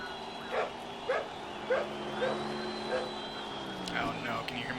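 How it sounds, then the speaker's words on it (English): A real dog barks repeatedly in the background, about six or seven short, faint yaps spaced roughly half a second apart, under racing-game engine drone and a person talking. "can you hear my dog barking in the background?"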